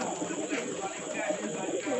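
Old pigeons cooing on a rooftop, soft repeated low coos mixed with faint bird calls under a steady background hum, fairly quiet and continuous.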